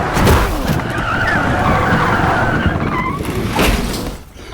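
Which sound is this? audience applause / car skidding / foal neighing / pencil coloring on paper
car skidding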